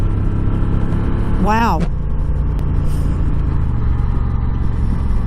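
A 2021 Honda Rebel 1100 DCT motorcycle labors after a downshift, its low engine drone steady and loud under wind rush. A rider briefly exclaims partway through.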